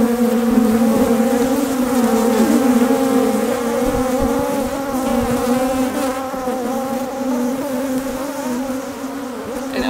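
Honey bees crowd the frames of an opened hive at honey harvest time, making a dense, loud, continuous close-up buzz that holds steady throughout with no voices.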